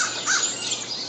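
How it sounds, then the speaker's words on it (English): Sparrows chirp outdoors at sunrise in a nature sanctuary, a brief bright scatter of small high calls over a soft outdoor hush. "I hear the sparrows over here"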